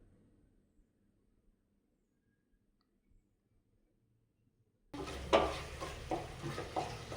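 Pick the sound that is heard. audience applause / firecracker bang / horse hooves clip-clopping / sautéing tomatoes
sautéing tomatoes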